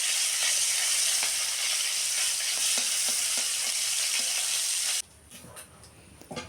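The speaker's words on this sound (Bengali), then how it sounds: "ইলিশ মাছের এই যে তেলটা, এটাকেও ভেজে নেবো" Hilsa fish oil fries in a pan with a loud, dense, continuous sizzling hiss and faint stirring ticks that cut off abruptly near the end, leaving quiet clatter.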